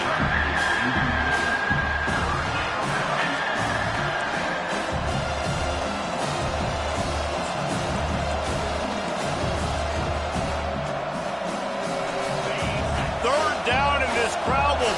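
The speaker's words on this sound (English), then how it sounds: "This crowd will blow out a vocal cord to help this defense" Big stadium crowd at a college football game roars steadily and loudly throughout, a dense wall of cheering and shouting with a commentator talking over it.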